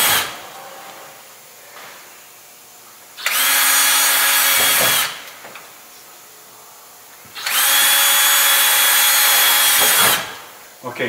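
A power drill drills out rivets through an inner metal panel in two long, loud, high-pitched bursts, separated by a quieter pause with faint background noise.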